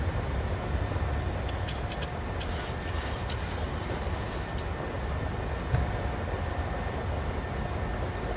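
Boeing 737 jet engines are heard from the cockpit as thrust is reduced toward climb power after takeoff, a loud, steady broadband roar with a low rumble and a few faint clicks.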